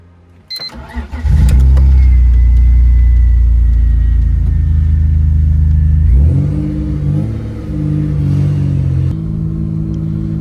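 A BMW E30 engine, after electrical repair, cranks and catches, then idles loudly with a steady drone before revving and pulling away, the engine note shifting as it moves.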